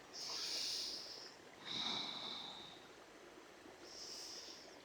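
Long, breathy exhalations during pranayama yoga breathing, three soft airy out-breaths with a hissing, snort-like edge, close and fairly quiet against a low background.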